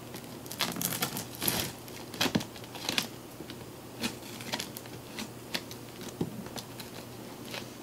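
A knife slicing through the cardboard box of an Optoma GT750E projector, irregular scratchy rips and crinkly crackles in short bursts, close and fairly quiet, with no talking.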